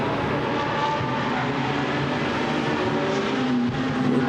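A Ferrari GT race car roars past at Misano circuit during a sports car club race, its exhaust a loud, sustained, raspy engine howl with no break.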